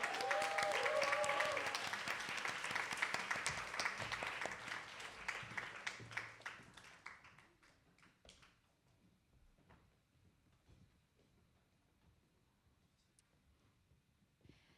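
Audience applause as contestants walk out to their seats, loud and dense at first, then gradually thinning to sparse scattered claps and fading into quiet room noise.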